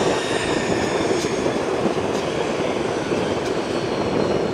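A Honda Jet takes off at an airport, its engines making a loud, steady broadband roar that holds level and fills the whole stretch with no talk.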